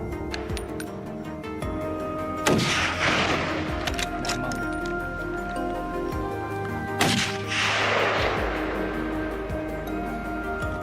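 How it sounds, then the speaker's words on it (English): Two sharp gunshot reports in a forest during a wild boar hunt, spaced several seconds apart, each followed by a broad echoing decay under steady background noise. "Hearing the gunshots, I knew that my friend Mehmet had taken action."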